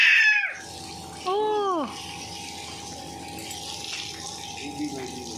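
Water gushes in a steady broadband wash, with a constant high tone running underneath and a brief warbling cry partway through.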